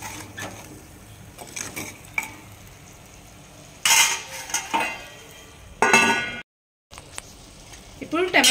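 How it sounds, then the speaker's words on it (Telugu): Tomato is stirred into chicken curry in a pot, making intermittent scraping and clinking bursts of spoon against metal, with a short silent gap; a voice talks over parts of it. "1 టమాటో వేసుకొని కలిపేసి"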